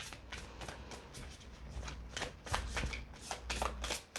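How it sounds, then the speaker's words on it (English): A brand-new, slippery deck of cards being shuffled by hand, a quiet run of rapid riffling flutters and soft slaps close up with no talking. "They're a little bit slippery, so bear with me as I do my best to shuffle."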